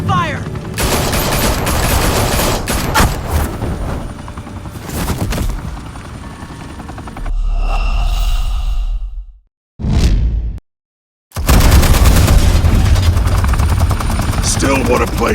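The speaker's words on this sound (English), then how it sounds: "Open fire!" Heavy gunfire in a Batman video game set in Gotham: dense, loud volleys of shots over a helicopter-like roar, then a sudden break into near silence before the chaotic shooting returns, with voices briefly heard.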